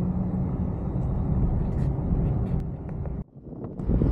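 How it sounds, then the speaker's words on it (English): Wind buffets the microphone in a continuous low roar at a road salt pile during a small winter storm, briefly dropping out near the end before gusting back. "I know it's kind of windy I don't have a mic so the sound's probably not very good"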